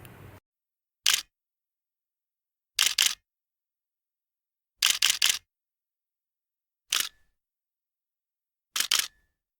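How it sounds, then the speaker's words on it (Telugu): Camera shutter clicks sound in short isolated bursts separated by silence, some single and some in quick double or triple fires, crisp and close. "అది కెమెరా షట్టర్ సౌండ్."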